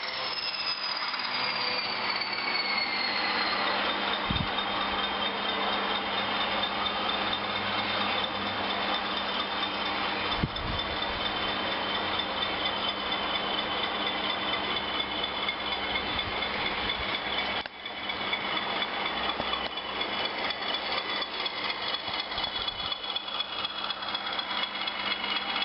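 A model Class 20 diesel locomotive with DCC sound slows down, its steady engine drone and whine running continuously at moderate level with a few faint knocks, no talk.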